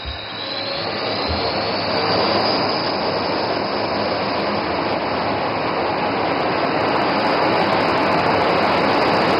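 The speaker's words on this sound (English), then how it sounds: "notice the aircraft is now opening full power" A Sukhoi fighter jet engine at full power at an air show, a loud steady roaring rush with a high whine on top, holding constant throughout.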